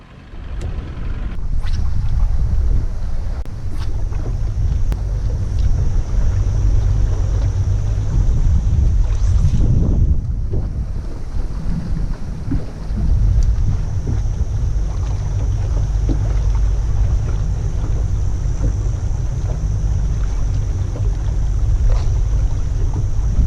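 A fishing boat's motor drones steadily up close while driving back up along a wall during flathead fishing, with a low rumble and wind buffeting the microphone throughout.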